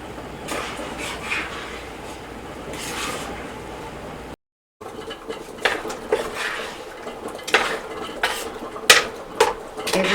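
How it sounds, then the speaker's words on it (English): A lid goes onto a boiling water bath canning pot during strawberry preserve making, giving irregular metallic clanks and scrapes at close range, with a louder clatter toward the end. "I'm going to put a lid on my boiling water bath pot"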